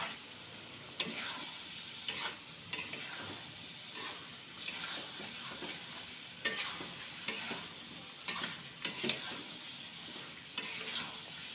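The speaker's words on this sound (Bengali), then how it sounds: "সবগুলো একসাথে দিয়ে দিচ্ছি একসাথে দিয়ে নেড়ে চেড়ে ভালো করে মাখাতে হবে" Chicken pieces tossed with spices in a hot pan for a Bengali chicken curry, with a steady sizzle under repeated scraping strokes of a spoon stirring the meat at close range; no talking.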